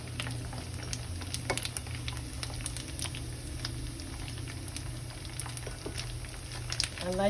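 Tofu fries in a skillet for barbecue tofu with a steady, moderate sizzle and crackle, with scattered pops and pan clatter throughout.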